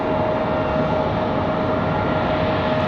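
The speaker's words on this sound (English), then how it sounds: "Delta 2699 coming in from Minneapolis" A Delta airliner arriving at Raleigh-Durham airport on a windy day, giving a steady, unbroken jet roar with a faint whine, heard alone for a few seconds.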